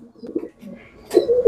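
Giribaz pigeons in a loft give soft, low cooing calls close by, a couple of short throaty murmurs, then a louder coo at the end.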